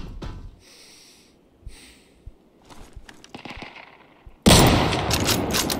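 Gunfire crackles in the survival shooter game Deadside: scattered sharp shots echo at a distance, then a loud, dense burst of close firing takes over near the end.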